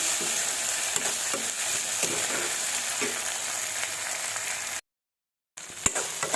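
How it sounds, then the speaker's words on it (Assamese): Crab fries in a pan with a loud, continuous sizzle and occasional stirring taps; the sound cuts out briefly near the end, then resumes. "এনেধৰণে মই ভাজি থাকিম এতিয়া"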